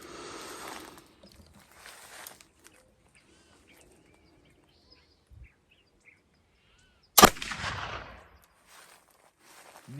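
A single sharp flintlock gunshot fired with homemade ammonium nitrate black powder, a loud close crack followed by a rushing trailing rumble, set between quiet outdoor stretches with faint bird calls and light rustling.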